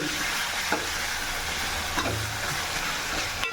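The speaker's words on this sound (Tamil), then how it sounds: "நல்லா எல்லாத்தையும் பரட்டி விட்டுக்கணும்" Chettinad chicken gravy with tomato is stirred in a pan, a steady close sizzle with periodic scraping strokes of the spoon against the pan, no talking.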